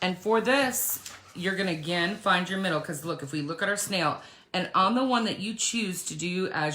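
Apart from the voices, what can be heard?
No everyday noises stand out.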